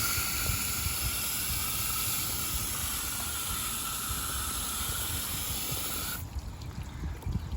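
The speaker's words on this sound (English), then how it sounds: "Got my hose right here." A garden hose sprays water onto a parked car outdoors, a steady close hiss and splash that runs continuously and drops slightly in brightness near the end.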